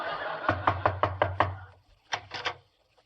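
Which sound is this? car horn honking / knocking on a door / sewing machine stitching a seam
knocking on a door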